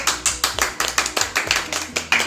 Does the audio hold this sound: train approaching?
no